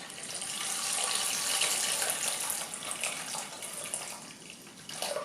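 Water streams from a tap into a Moulinex Companion food processor while homemade laundry detergent is made, a steady close splashing flow that tapers off and then briefly picks up again.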